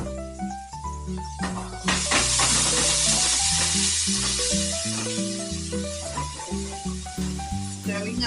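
Food frying in vegetable oil in a pot gives a steady close sizzle, with a spoon stirring through it and knocking softly in rhythmic strokes; background music plays throughout.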